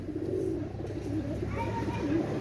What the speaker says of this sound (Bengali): এত সুন্দর একজোড়া কবুতর ভাই